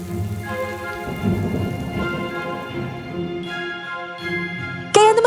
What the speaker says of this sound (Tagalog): Bago pa lumakas yung ulan.